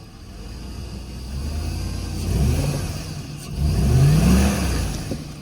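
A Toyota Tacoma engine revs hard in two surging bursts while a rear wheel spins. The engine is close and loud and drops back between the revs.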